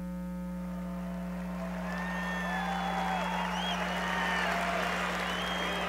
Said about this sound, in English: I certainly appreciate that applause.